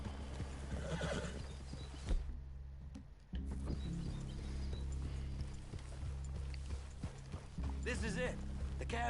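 Horses in Red Dead Redemption 2 neigh and whinny while hooves clip-clop steadily nearby, with a brief quiet gap partway through and people talking over the game sounds.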